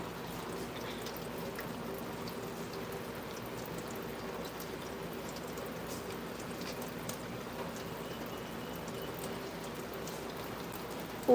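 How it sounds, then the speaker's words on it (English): Steady rain falls on a rainy day in Kingston, a soft even patter and hiss of drops on surfaces that stays constant and fairly faint throughout, with no talking. "Rainy day."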